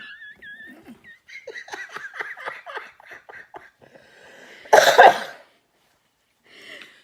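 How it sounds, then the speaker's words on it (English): A person coughs indoors, a run of rough, uneven, raspy hacks followed by one louder, harsher burst near the end, close and otherwise quiet. "You're making me cough"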